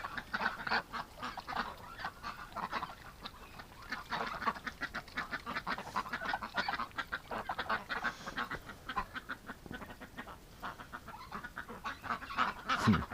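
Ducks quack and honk continuously in a winter farmyard, a busy overlapping flock with repeated loud calls close by and no talking.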